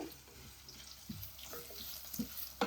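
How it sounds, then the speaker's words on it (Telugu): Dry red chillies frying in hot oil in a pan, a faint, soft sizzle with a few light stirring scrapes and small crackles near the end, no talk. "ఎండు మిరపకాయలు, చూడండి ఇలా ఫ్రై అయింది"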